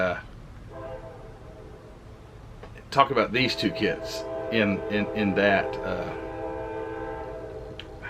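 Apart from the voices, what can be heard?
train horn blowing on nearby track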